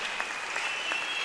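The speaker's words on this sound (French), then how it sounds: "Est-ce que vous pouvez m'applaudir comme dans" Steady applause from an audience, dense continuous clapping with a few sharper accents, moderately loud and filling the room without voices.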